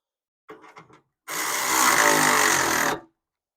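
A power tool whirs for about two seconds, tightening a bolt on the front end of a first-generation Pontiac Firebird, loud and close after a few brief rattling clicks.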